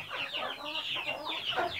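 An old broody hen sitting on her nest clucks in a run of low, drawn-out, grumbling calls close to the listener, several overlapping notes with no talking.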